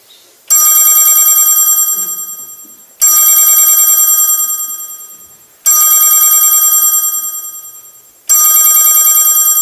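A telephone rings through a PA system at a Christmas stage show, giving four loud, evenly spaced electronic ring bursts that each fade slowly before the next one starts.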